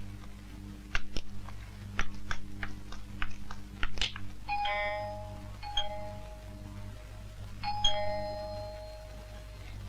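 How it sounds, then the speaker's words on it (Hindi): A doorbell chimes indoors in a Hindi film scene: a few soft clicks, then two clear electronic ding-dong rings with a ringing tail, over a steady background hum. "देख तो बाहर कौन घंटी बजा रहा है।"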